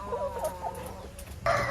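Chickens in an urban backyard coop clucking and calling close by, a run of short rising clucks followed by a louder, harsher squawk near the end, with no talking.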